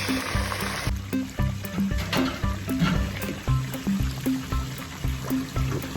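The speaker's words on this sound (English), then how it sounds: "The pepper soup is boiling, bubbling." A pot of Liberian okra pepper soup simmers with a steady bubbling and gurgling, soft popping bursts repeating over a constant low hiss.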